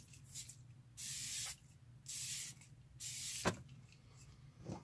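Three short hissing bursts of a fine mist hydrating face spray, evenly spaced and close, with quiet handling noises between them.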